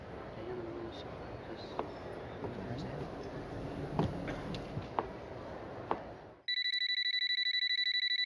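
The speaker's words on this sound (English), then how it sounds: "Calls to the Sherrys' home went unanswered." An unanswered home telephone: quiet background noise gives way to a loud, steady electronic ring that sounds alone and continues to the end.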